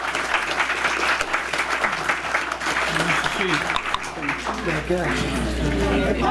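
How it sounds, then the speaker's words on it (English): Audience at a historical society meeting in Beacon applauds loudly and continuously for about six seconds, with voices and chatter mixed into the clapping. "give yourselves a round of applause"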